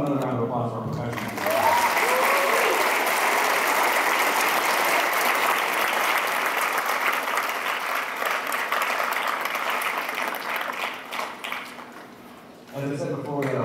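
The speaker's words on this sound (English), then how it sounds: "another round of applause for our percussion" An audience applauds the percussion section of a high school concert band after a performance, a full crowd clapping steadily that builds quickly, holds, then thins out and fades near the end.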